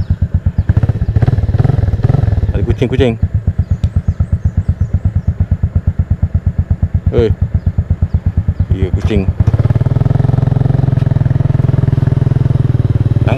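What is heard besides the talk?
Kriss 110 motorcycle engine with leaking exhaust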